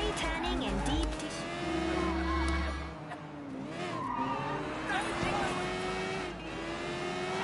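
Tires skid and squeal as a car slides during driving in the open-world game Sleeping Dogs, a loud sustained screech with engine drone over low music, with a player talking over it.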